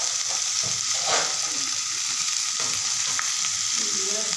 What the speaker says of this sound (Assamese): এতিয়া এইখিনি বস্তু মই অলপ ভালদৰে মিহলাই লৰাই দিম